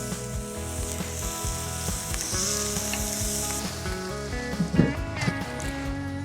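Burgers sizzling on a Weber kettle grill, a steady close frying crackle and hiss running throughout, with a few light scrapes and clinks over it.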